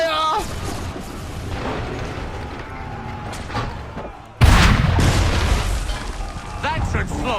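A volley of musket gunfire in the Assassin's Creed III video game erupts as a sudden loud boom midway, over ongoing battle noise, with voices talking throughout.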